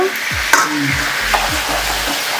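A spatula stirs prawns frying in oil in a pan, giving repeated scraping strokes over a steady loud sizzle, close up and without talk.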